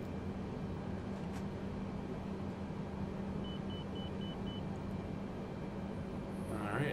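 A Boeing 787 cockpit in Microsoft Flight Simulator gives a short run of evenly spaced, faint beeps over a steady loud rumble of engine and cabin noise.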